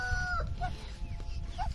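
Chickens cluck and squawk close by in short bursts over a low background rumble.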